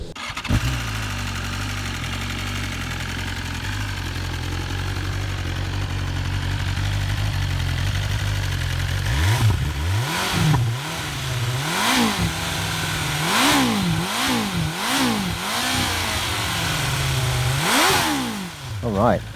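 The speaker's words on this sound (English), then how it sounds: "that's what the S1000RR sounds like with its standard exhaust" A 2019 BMW S1000RR motorcycle with its standard exhaust idles steadily up close, then is blipped through a series of sharp revs that rise and fall, with a voice speaking over parts of it.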